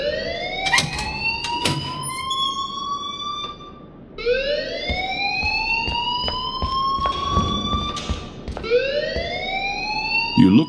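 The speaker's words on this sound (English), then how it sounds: "please turn off that alarm since that's your job" A fire alarm in the video game Life Is Strange wails in repeated rising sweeps, loud and close, cycling about every four seconds with clattering and faint voices beneath.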